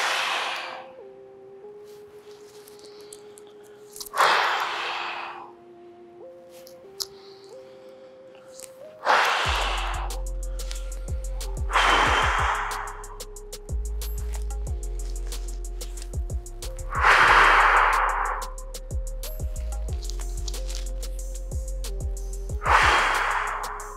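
Forceful exhaled breaths during a home dumbbell workout for grappling and MMA, about six sharp bursts spaced several seconds apart over steady background music.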